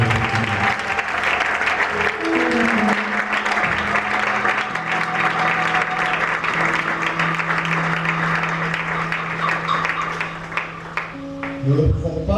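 A church congregation at a Congolese revival service applauds loudly and continuously, with sustained organ or keyboard chords ringing underneath the clapping throughout.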